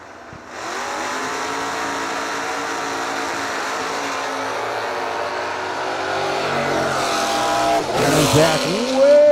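A 1970 Chevelle, a former Crate Motors stock eliminator car, launches and accelerates hard down the strip at a bracket nationals drag race, its loud engine rising steadily, ending with a brief tire squeal and a sharp rev near the close.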